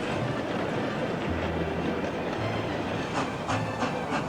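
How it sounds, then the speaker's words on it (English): A steam train rumbles steadily along the rails with a continuous low roar and faint rhythmic clatter of wheels, close and loud throughout. "Peter Sam headed up the line with the first passenger train and a string of empty wagons behind."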